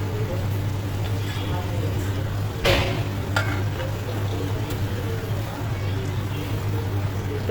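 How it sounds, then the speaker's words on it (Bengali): Hilsa fish fried in a pan are stirred gently, giving a steady soft sizzle close by with a brief scrape near the middle, over a low constant hum. "এখন আমি হালকা করে নেড়ে দিচ্ছি কারণ বেশি নাড়াচাড়া করা যাবে না"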